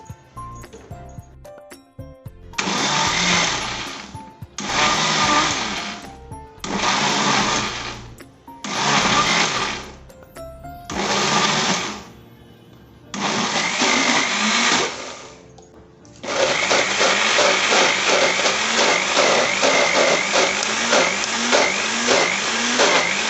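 A mixer grinder jar blends frozen mango with fresh cream in loud pulsed bursts, six short runs with brief pauses, then one long continuous whirring run at the end.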